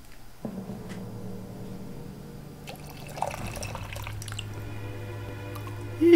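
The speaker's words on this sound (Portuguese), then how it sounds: "Enquanto isso, eu encho minha água aqui." Water filling up in the PS2 game Monster Hunter 2 (Dos), a steady trickling, dribbling pour with soft drips that runs for several seconds over a low game hum, with no talk.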